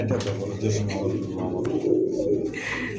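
A pair of red pigeons with pink beaks coo repeatedly at a pigeon sale, their soft throaty calls close and steady beneath people talking nearby.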